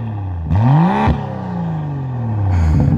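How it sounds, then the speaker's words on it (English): A BMW X4 M40i engine revs through its exhaust, climbing sharply in pitch, then falling back to a rumbling idle, with a second rev building near the end, loud and close. "Let's go ahead and have some fun with rev time with Allison."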